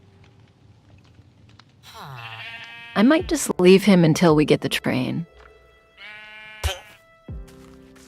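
Sheep in the video game Minecraft give a couple of short, close bleats, one after another, while a person talks over and around them.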